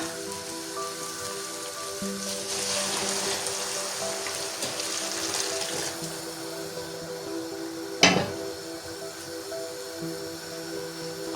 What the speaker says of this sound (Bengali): ফোটানো গরম পানিটা দেবো